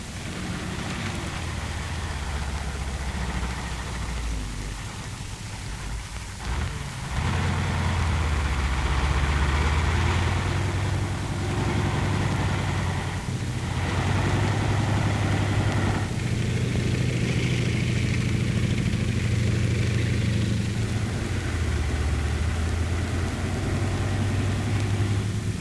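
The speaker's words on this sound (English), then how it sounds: "there she is, the engineer armored vehicle" A World War II-era engineer armored vehicle, loaded with a demolition crew and explosives, idles with a steady low rumble that holds loud and constant throughout, with a rough hiss layered over it.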